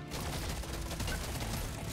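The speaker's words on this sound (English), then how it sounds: "Oh, it's shooting like 5 bullets." Rapid gunfire from a sawed-off M1000 firing several bullets per shot in the game Deep Rock Galactic Survivor, a dense continuous rattle of blasts with mechanical clatter, loud and unbroken.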